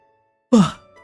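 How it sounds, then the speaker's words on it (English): A single close, breathy yawn from a man, a sudden loud exhale that swells and trails off into a quiet sigh within about half a second, heard alone. "I don't know why I'm yawning so much"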